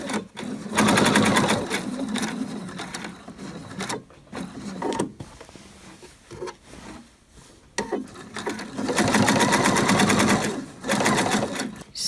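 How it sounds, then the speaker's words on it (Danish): A sewing machine stitches a narrow edge seam on homemade children's trousers in rapid, loud bursts, pausing between runs, with small handling noises in the gaps. "Og så kører jeg igen sådan en ganske smal kantstikning hele vejen rundt"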